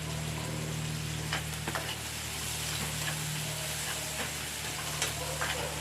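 Garlic frying in a pan for Filipino adobo, a steady hissing sizzle with faint stirring clicks and scrapes throughout.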